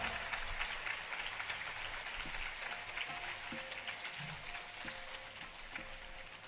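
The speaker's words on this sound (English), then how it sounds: "a big round of applause for the amazing Sarod recital" An audience at a music meditation festival gives a sarod recital sustained applause, many hands clapping in a steady, even wash heard from a moderate distance.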